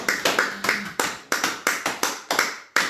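Rhythmic applause in a prayer gathering acclaiming Jesus, with a dozen or so sharp, evenly spaced claps ringing out close and clear in a steady beat.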